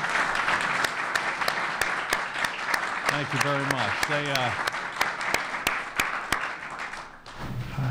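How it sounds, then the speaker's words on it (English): Audience applauds for the Raleigh City Council at a governor's announcement on the Dorothea Dix property: steady, fairly close clapping with sharp individual claps standing out, while a speaker talks briefly over it. "let's give them a round of applause."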